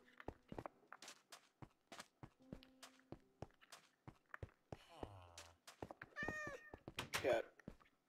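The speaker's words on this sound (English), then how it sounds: "Cat." Cat meows from the Minecraft video game come in several short calls through the latter part, mixed with game footsteps, clicks and thuds, while a person talks intermittently.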